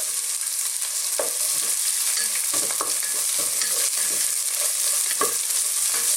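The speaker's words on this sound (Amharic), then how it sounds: "ጠንካሮቹን መጀመሪያ እንጠብሳለን።" Carrots, garlic and ginger fry in oil for vegetable fried rice: a steady close sizzle broken by repeated scraping stirs of a spoon against the pan, with no talking.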